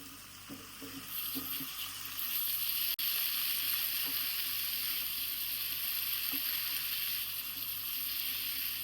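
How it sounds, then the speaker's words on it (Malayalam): A chicken steak sizzles steadily in a hot pan after being flipped, with a loud, continuous hiss and occasional faint utensil taps and no talking. "ചിക്കൻ നമുക്കൊന്ന് തിരിച്ചിട്ട് കൊടുക്കാം."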